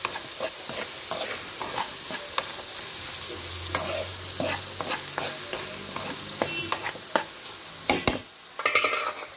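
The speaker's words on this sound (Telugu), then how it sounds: "మరొక 2 నిమిషాలు వేగనిచ్చుకుందాం మనం" Potato, carrot and rice being stir-fried in a pan, with steady sizzling and frying under repeated clinks and scrapes of a spoon stirring against the metal, close and busy throughout.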